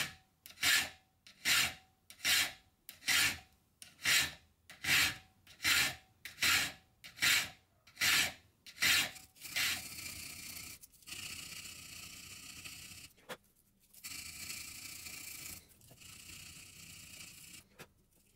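A file cuts a sharpening notch into a knife blade with about a dozen rhythmic back-and-forth rasping strokes close up, then gives way to softer, more continuous scraping and rubbing. There is no speech.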